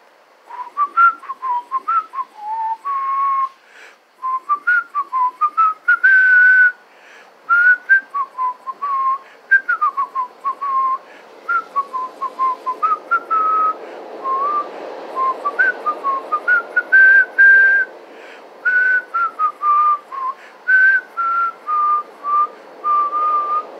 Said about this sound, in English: Beautiful to whistle. So whistle if you can.